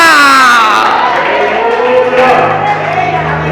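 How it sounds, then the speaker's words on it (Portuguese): Church congregation clapping and shouting praise together, a sustained loud crowd din with voices rising over a steady background of music throughout. "Vai aplaudindo e gritando glória"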